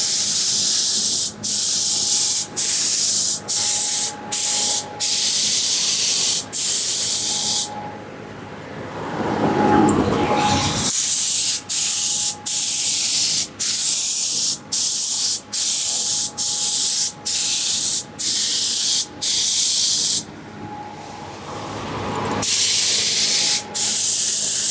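Light, dry coats of green apple candy paint sprayed over a crystal pattern: a loud, steady spray-gun hiss in repeated bursts with brief pauses between passes, broken midway by a softer, quieter stretch.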